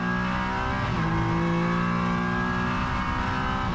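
A Michelin Le Mans Cup race car at Le Castellet is heard close by as the driver blips the throttle and downshifts to first gear. The loud engine drone shifts pitch up and down throughout, with no voices.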